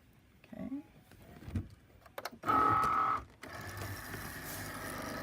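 A Cricut cutting machine works on paper on a fabric mat for a box lid: a few clicks and thumps, a short loud motor whir, then a quieter steady mechanical hum.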